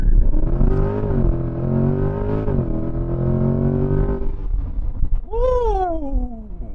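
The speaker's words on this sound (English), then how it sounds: "1 foot on the brake. 1 foot on the gas. All the way to the floor." A Corvette C8 Z51 Stingray launches hard with launch control, its engine roaring loudly and steadily at high revs before the pitch drops and then climbs again in a rising shift.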